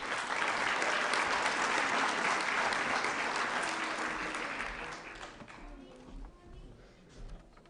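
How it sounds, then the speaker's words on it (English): School event audience applauding OMS students, a full, sustained round of clapping that tapers off into scattered claps and murmurs, with a few soft thumps near the end. "a final applause for our OMS students"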